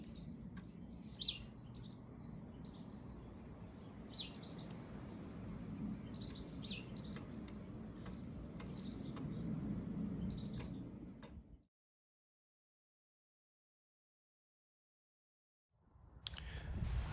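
Blackbirds and their fledglings chirp and call outdoors over steady wind-like background noise, with scattered short tweets throughout, then the sound cuts to silence before resuming briefly.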